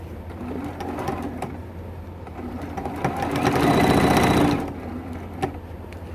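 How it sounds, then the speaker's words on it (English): A sewing machine quilting a heavy T-shirt quilt runs steadily with a fast mechanical whir and needle clatter, swelling louder for a couple of seconds near the middle before settling back to a steady hum. "Some machines don't mind sewing over that thickness, and some machines do."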